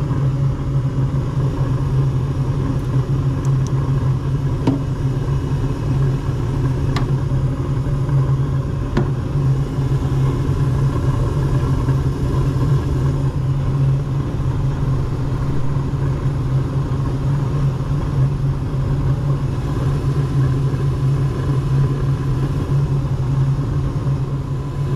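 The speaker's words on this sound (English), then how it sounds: "Let's wait and see if this blower comes on." A residential HVAC furnace blower runs quietly with a steady low hum and soft airy whoosh, constant and unchanging for the whole stretch, with no voices.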